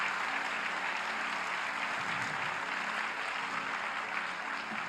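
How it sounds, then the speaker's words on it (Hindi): During a religious Bhagavat discourse in Vrindavan, a large gathering claps steadily, a soft, even, distant-sounding wash of applause with no speech over it. "थोड़ी तालियां तो बजाइए, जोर से बजाइए"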